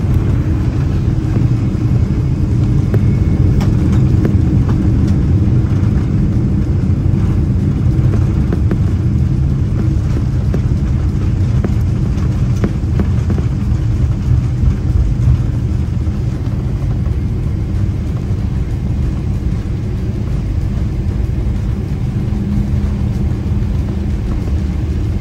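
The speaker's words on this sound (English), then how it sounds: "Now then, enjoy the following landing footage." Steady, heavy low rumble of a Qatar Airways Boeing 777-300ER cabin during landing, a constant dense engine and airflow drone heard from inside, unbroken and without talk.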